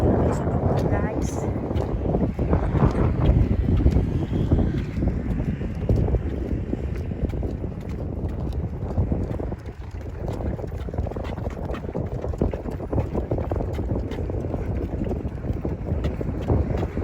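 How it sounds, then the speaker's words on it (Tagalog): Strong wind gusting at the summit viewpoint of CCLEX, a loud continuous rumble of buffeting against the microphone, with people talking throughout. "ang lakas ng hangin dito guys"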